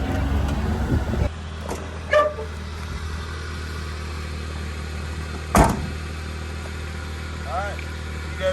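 A Mitsubishi 4x4 mini truck engine idles with a steady low drone, a louder burst at the start and a few clunks and knocks over it, while people talk nearby.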